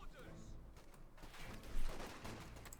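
Machine gun fire in the video game Company of Heroes 2, a short, quiet clatter of rapid shots that thickens near the end, heard under a low background bed.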